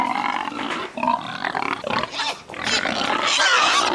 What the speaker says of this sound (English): I got to feed these pigs before they start tearing stuff up.